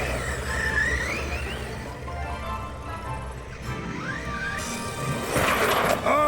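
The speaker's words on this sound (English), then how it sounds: "Oh, shattered the cone." A Hosim X-25 RC car whines and whirs along, then crashes into a traffic cone near the end, giving a sharp shattering burst that stands out above the motor noise.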